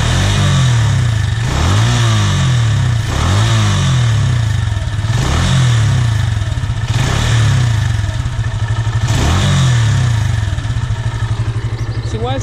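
Dinamo Speed Fire 200cc motorcycle with an aftermarket-style exhaust, idling loud and close then revving in repeated blips, about five rises and falls of engine pitch over a steady rumbling exhaust.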